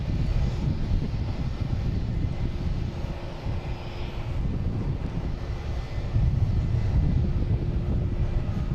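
A Cape Air airplane arrives at Boston Logan International Airport with a steady engine drone that swells slightly near the end. Some wind rumbles on the microphone, and no one speaks.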